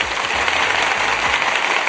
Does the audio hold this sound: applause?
yes